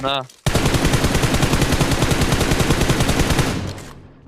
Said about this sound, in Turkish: Benim nereye sıkıyorsun Hakan?